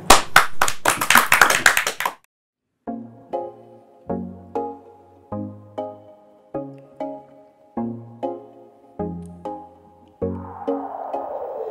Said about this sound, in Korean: 박수로 청해 듣죠.